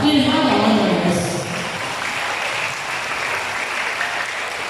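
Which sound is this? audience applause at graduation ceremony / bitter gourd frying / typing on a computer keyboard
audience applause at graduation ceremony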